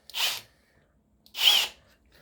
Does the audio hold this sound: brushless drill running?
yes